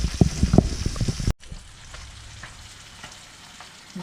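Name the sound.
pecan-crusted speckled trout fillets frying in a pan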